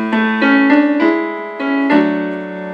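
A short piano phrase plays alone, with a few sustained chords struck in a slow, even rhythm and ringing clearly between hits.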